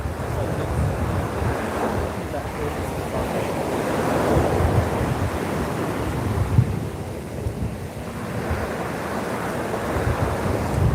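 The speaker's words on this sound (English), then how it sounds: "Can you guys hear the waves completely?" Ocean surf rolls onto a Hawaii beach in slow, swelling surges, a continuous broad wash of breaking waves rising and falling every few seconds, with steady wind noise over the microphone.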